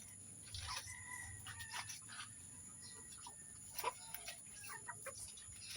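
Three tethered roosters crow in a farmyard, the calls fairly faint and intermittent over a steady background with scattered clucks and bird sounds.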